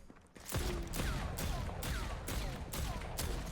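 Holiday's Desert Eagle-style pistol in Deadlock fires a string of sharp, evenly spaced reports about half a second apart, loud and close, with game ambience between shots.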